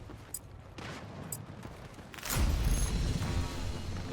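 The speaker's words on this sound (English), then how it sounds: "You can see gunfire and a tank shell." Gunfire crackles in a Battlefield 6 Conquest match, a few faint distant shots followed by a loud, heavy boom of a tank shell that rumbles and decays into a sustained roar of battle noise.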